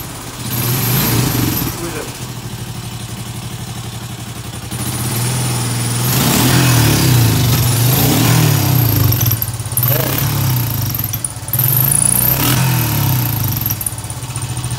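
A 2005 Honda Fourman 500 4x4 ATV engine runs after start-up, a steady mid-pitched idle that swells with occasional revs, loud and close, with talking over parts of it.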